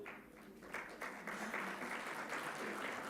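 A convocation audience gives quiet, distant applause for a graduate, the clapping building after a soft start and continuing evenly.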